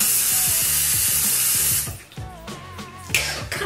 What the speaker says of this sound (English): I like to shake it up a little bit before I spray it on my armpits.